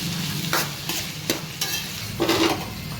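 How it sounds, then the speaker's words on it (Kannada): Curry leaves stirred into hot oil in a pan for a chicken liver gravy: steady frying sizzle with repeated scraping stir strokes, close and fairly loud, no voices. "ಕರ್ಬೇವಿನ ಸೊಪ್ಪು ಹಾಕ್ಕೊಳ್ತಾ ಇದ್ದೀನಿ. ಇದನ್ನೆಲ್ಲ ಮಿಕ್ಸ್ ಮಾಡ್ಕೊಳ್ತಾ ಇದ್ದೀನಿ."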